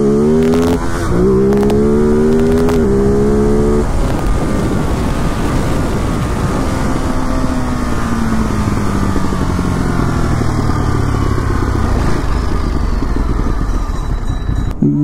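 A Ducati Monster motorcycle engine revs hard during a wheelie, a loud continuous roar whose pitch climbs and drops through gear shifts, close and steady across the whole stretch with no talking.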